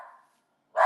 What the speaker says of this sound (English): That's my cattle dog.